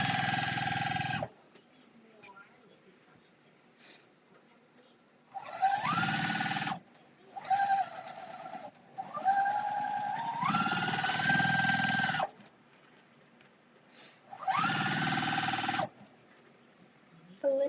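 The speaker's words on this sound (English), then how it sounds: "We're just literally looping it around and chain sewing." A sewing machine chain-sews fabric pieces in several short bursts of rapid stitching, separated by pauses and quiet handling noises.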